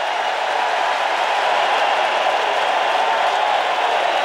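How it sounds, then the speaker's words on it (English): A big crowd at a baseball stadium roars steadily as fans rise to their feet on a full count in a 1996 playoff game between Cleveland and Baltimore, a dense, sustained cheer with no break. "the big crowd, as one, rises to its feet"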